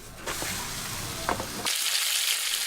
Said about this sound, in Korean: 지글지글 전 부치는 소리.